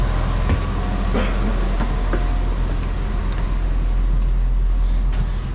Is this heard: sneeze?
no